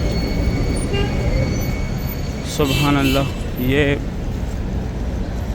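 A metro bus pulling away from Al Marwa bus station in Makkah, a steady low engine rumble with brief higher whining and squealing tones midway, heard in a busy outdoor setting while someone speaks over it.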